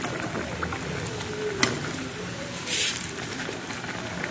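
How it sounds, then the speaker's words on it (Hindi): Bread pakoda frying in hot oil, a close, steady bubbling sizzle with a few sharp pops and a brief louder spatter. "तो यहाँ पर तेल गर्म हो चुका है और मैं इसमें डाल दूंगी।"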